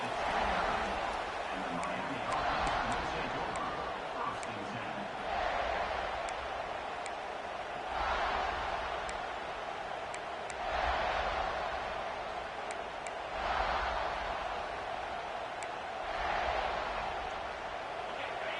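Stadium crowd roaring in the College Football 26 video game early in a match, a dense wash of noise that swells in regular waves, with announcer commentary over it.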